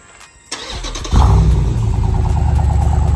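A Jeep SRT with a new loud exhaust cranks briefly, then fires up with a sudden deep roar and settles into a heavy, rumbling idle, loud and close.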